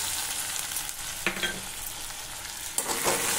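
Ginger-garlic paste frying in a pan for paratha, a steady, fairly quiet sizzle with a couple of brief louder scrapes or stirs breaking through.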